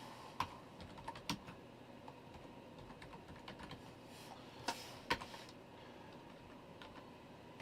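Someone types on a new computer keyboard while programming a Commodore 64 game, producing faint irregular key clicks with a few sharper taps over quiet room noise, with no talk.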